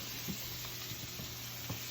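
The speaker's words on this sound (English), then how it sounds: "You hear that sizzle." Steady sizzling of meat frying in a pan, a continuous crackling hiss with a low hum underneath and occasional soft pops.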